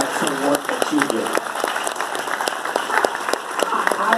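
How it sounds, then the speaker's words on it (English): Audience applause at a civic community gathering, scattered hands clapping in a steady patter with a few sharper individual claps, while murmured voices carry underneath. "Give our round of applause."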